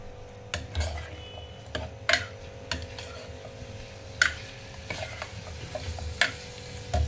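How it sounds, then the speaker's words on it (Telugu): Half a tablespoon of turmeric frying in a pan, a low steady sizzle broken by periodic sharp clinks of a spoon stirring against the metal. "ఇప్పుడు దీంట్లో ఒక 1/2 టేబుల్ స్పూను పసుపు వేసేసి కొంచెం సేపు వేగనిద్దాం"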